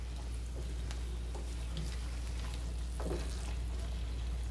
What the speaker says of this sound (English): I'm going to let that get that shrimp cooked down